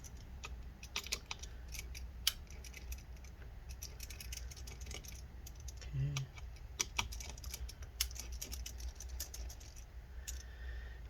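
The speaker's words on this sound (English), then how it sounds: "So we're just going to remove all 10 of these screws." Small screws being backed out of the trackpad area of a 13-inch MacBook Pro A1708 (Late 2016/Mid 2017), a quiet run of soft ticks and light clicks from a screwdriver against metal, close but faint, with brief murmurs of speech.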